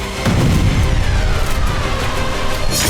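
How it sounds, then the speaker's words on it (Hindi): A heavy, sustained Russian bomb blast at Lozova railway station near Kharkiv roars and rumbles through the whole stretch, loud and close, with deep low-end pressure and no voices. "कितना जोरदार धमाका हुआ, शॉक वेव से धरती कांप उठी।"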